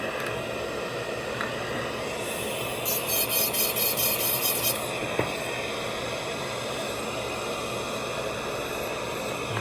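A dental lab technician grinds a tooth model with a close, steady abrasive whir and rasp. A brighter, rougher burst comes in the middle, followed by a small click, over a constant hissy background with no speech.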